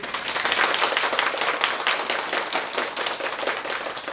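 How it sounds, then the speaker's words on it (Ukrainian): A children's audience at a kindergarten fairy-tale show applauds the performers, with dense, steady clapping from many small hands sustained throughout, loud and close. "Оплескаємо їм від душі."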